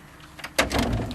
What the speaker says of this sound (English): you can see door latches